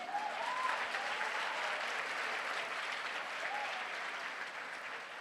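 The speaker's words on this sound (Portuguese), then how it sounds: "Pode aplaudir Jesus." Sustained applause from a large church congregation, an even wash of clapping that holds at a steady level throughout, with a faint whistle now and then.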